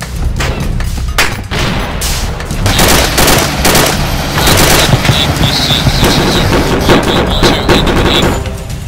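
Dense covering gunfire in the video game Arma 2 Insurgency: repeated automatic bursts and heavy booms fire continuously, loud and close, with overlapping shots layered over several seconds.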